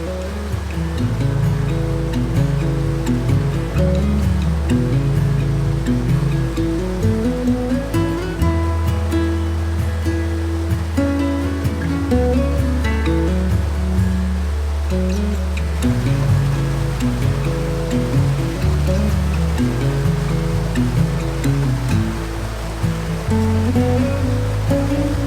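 A hidden waterfall flows steadily outdoors, its water rushing in a dense, constant roar that stays loud and unbroken throughout, with no voices.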